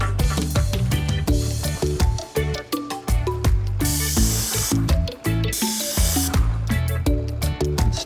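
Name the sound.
paint spray gun spraying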